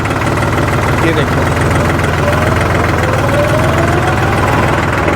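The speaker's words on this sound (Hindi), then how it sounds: "जैसे मैं आरपीएम बढ़ा रहा हूँ, जैसे 1000 आरपीएम पर गया ट्रैक्टर" A tractor diesel engine runs near the microphone, chugging steadily around a thousand RPM with a rhythmic low knock, while someone talks over it.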